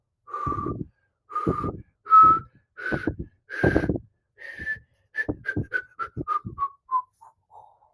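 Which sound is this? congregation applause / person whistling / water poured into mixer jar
person whistling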